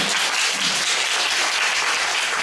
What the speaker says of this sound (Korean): 아, 저 박수 소리 들려요.